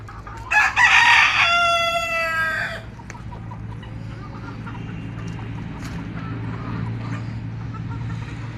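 Outdoor chickens let out in rainy weather, with one loud close rooster crow at the start followed by scattered soft clucking over a steady background hum.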